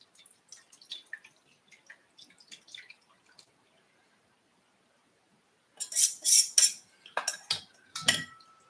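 Cherry blossom syrup strained through a strainer into a bowl, with sparse light drips and clinks at first, then a louder cluster of splashes and metallic taps near the end.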